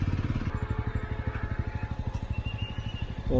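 A motorcycle rides along a road near Chikkaballapura, its engine thumping in a fast, even pulse up close, with wind and traffic hiss in the background.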